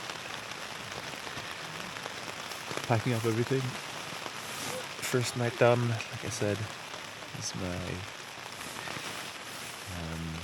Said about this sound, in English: can probably hear the rain right now.